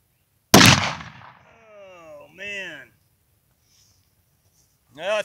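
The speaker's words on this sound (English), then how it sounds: "Gonna shoot it again. See if it'll go off this time." A single sharp gunshot cracks loud and close as a round with a previously dented primer is fired again outdoors, followed by a voice exclaiming and a brief burst of speech.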